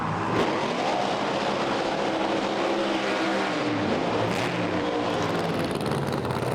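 Pro Mod drag racing cars, including a Camaro, roaring down the strip at a British Drag Racing Championship round, a loud sustained engine blare with shifting pitch sweeps throughout.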